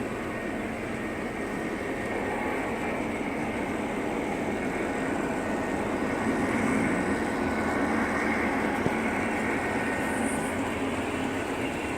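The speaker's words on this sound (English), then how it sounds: "we have a train coming through here" A small train rumbles steadily along its track, a continuous rattling whir that holds at an even level throughout.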